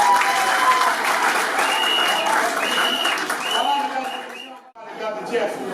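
Guests applaud at a civil wedding ceremony at a town hall, a sustained crowd of clapping with voices mixed in, loud and steady, briefly dropping out near the end before picking up again.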